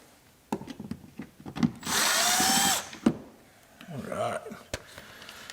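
A power drill drives T25 Torx screws holding a Focus ST fog light assembly, giving one loud sustained whir of about a second amid clicks, handling knocks and a second softer burst, with a person talking nearby.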